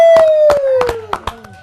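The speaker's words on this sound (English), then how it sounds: "Can we give a hand clap together to Mr." A studio audience claps hands in a short, rhythmic burst of close claps, with a falling tone running beneath them.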